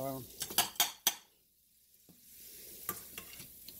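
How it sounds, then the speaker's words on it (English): A piece of onion swished around in salmon drippings in a pan, a few sharp scraping clinks of a utensil against the pan, then a quiet stretch and a soft faint sizzle with another couple of clinks. "just swish it around in those little drippings there for a little bit"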